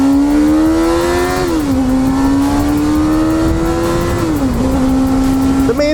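A carbureted car engine runs loud and close at a raised, steady speed, the pitch dipping twice as the throttle eases and then holding again, a continuous throaty drone with no break.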